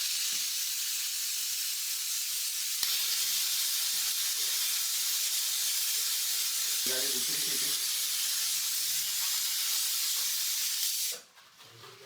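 A pressure cooker on a home stove, heating chicken soup, releasing steam in a long, steady, loud hiss that runs unbroken for about eleven seconds, then cuts off abruptly, with faint voices underneath.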